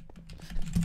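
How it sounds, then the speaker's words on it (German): Quick, soft keyboard clatter from a sturdy computer keyboard during a Minecraft session, close and low in level, with a few louder clicks near the end. "Meine Tastatur, da darf ich sie euch empfehlen."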